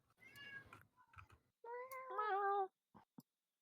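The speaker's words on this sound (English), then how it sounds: "Meow." A house cat meows several times close by in a quiet room, with drawn-out, wavering cries and a few faint clicks in between.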